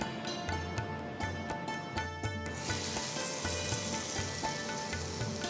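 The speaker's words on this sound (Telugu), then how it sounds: "సో ఇప్పుడు మనం తాలింపుని పెరుగు పచ్చడిలో వేసేద్దాం." Hot tempering with chilli, asafoetida and curry leaves hits curd chutney with a steady crackling sizzle, fairly soft and continuous throughout, with no voices.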